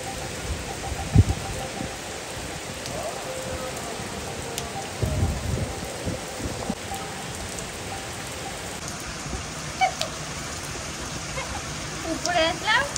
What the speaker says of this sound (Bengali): সাংঘাতিক পরিমাণে বৃষ্টি হচ্ছে।